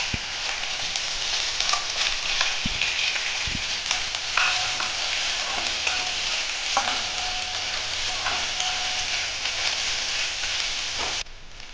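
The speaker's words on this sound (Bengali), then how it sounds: "আমি পেঁয়াজগুলোকে লাল করে একটু ভেজে নিয়েছি।" Finely chopped onions fry in a pan with asafoetida, a steady close sizzle with occasional stirring clicks and scrapes, continuous and without speech.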